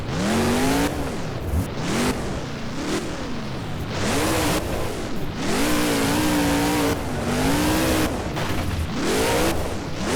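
Loud, continuous engine roar of a monster truck in the BeamNG video game, revving up and down in repeated surges as it launches into the air and lands with a bounce, with tire noise throughout and no talking.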